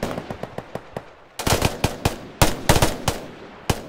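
Rapid gunfire in the Roblox Fireteam game, a string of sharp single shots that builds into dense, louder bursts of overlapping reports, close and punchy with short gaps between volleys.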